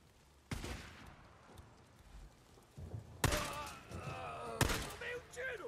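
Gunfire in the video game Days Gone on PS5 comes as three sharp, loud shots spaced a second or more apart, each ringing briefly, over low background game noise with some quieter clatter between.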